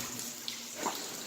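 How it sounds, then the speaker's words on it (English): Water dripping and trickling inside an abandoned train tunnel, soft and fairly distant, with a couple of brief splashy drips over a steady wet hiss. "It is dripping a lot here. Up there, it's like a full stream coming down."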